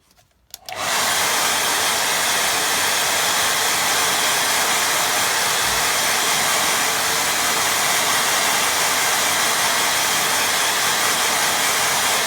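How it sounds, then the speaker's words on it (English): A hair dryer switches on and blows steadily and loudly at close range for the whole stretch, drying watercolour paint on paper, with no voices over it. "I'm going to dry that."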